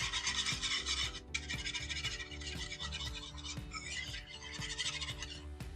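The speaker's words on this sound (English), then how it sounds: "And we'll give it a whisk." Whisk scraping steadily around a bowl of Italian vinaigrette made with lemon juice, salt and pepper, a continuous close raspy swishing with rhythmic strokes and no talk.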